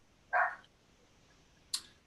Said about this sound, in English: The dogs are going crazy because I think Mama's home.